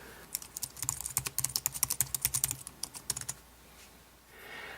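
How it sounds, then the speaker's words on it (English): A Logitech K760 wireless solar keyboard, paired to an iPhone, is typed on in a quick, even run of light clicking keystrokes that lasts a few seconds and then stops, close and clear with no talking. "So now I can start using the keyboard on my iPhone."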